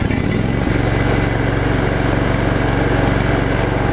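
A Kubota Z421 KWT zero-turn mower, a 60-inch Kommander Pro, runs with its engine at a steady, loud, close drone and an even throbbing pulse, with no talk.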